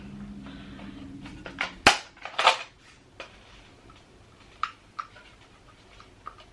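Metallic clicks and a sharp snap as a magazine is pushed into a Mosin Nagant rifle with an upgraded stock, a few close, separate clacks followed by scattered lighter ticks.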